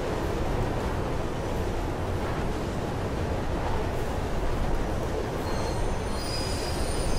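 A train ride in the video game Mirror's Edge: wheels squeal and the carriage rumbles in a loud, continuous roar. A higher metallic screech rises toward the end, and no one speaks.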